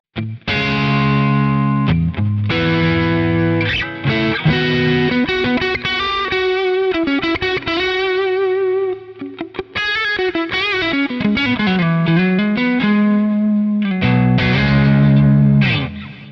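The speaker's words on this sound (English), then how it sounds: "here is the Strat" A distorted Stratocaster on the neck pickup plays chords and single-note lines through a crunchy Marshall Plexi amp model on a Quad Cortex, warm and loud with crispy top end and brief gaps between phrases.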